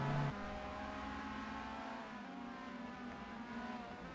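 A race car engine in the Race 07 driving game holds a steady, fairly quiet drone with harmonic tones, heard alone as the car runs through an S turn with a rival close behind.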